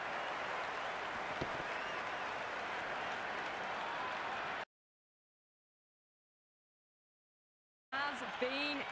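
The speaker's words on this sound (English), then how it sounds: "It's flown into the crowd." Crowd applause in a cricket video game after a six, a dense steady roar of clapping that cuts to silence for several seconds, then returns with a voice speaking over it.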